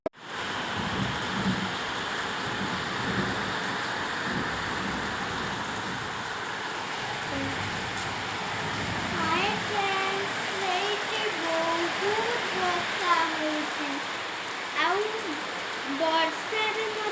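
Heavy rain falling outdoors, a dense continuous hiss of rain on surfaces throughout, with people talking over it in the later part.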